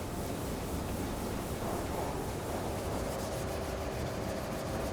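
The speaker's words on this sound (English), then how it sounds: "Once it's dry, it's sanded down by hand" Steady hand sanding of a base-coated timber window or door, a continuous dry rasping rub at an even, close level with no pauses or voices.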